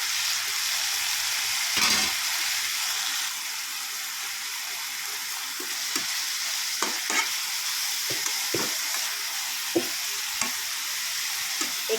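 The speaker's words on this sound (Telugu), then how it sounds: "ఈ పచ్చివాసన పోయే వరకు మంచిగా ఫ్రై చేసుకోవాలండి ఇలా" Coriander and tomato chutney frying in a pan, a steady close sizzle with repeated scraping and stirring knocks throughout, a brief louder splash near the start, and no talking.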